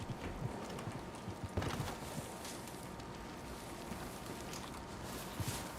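Horse hooves clip-clop faintly in the video game Gilded RP, a sparse, quiet walking rhythm over a low ambient hum.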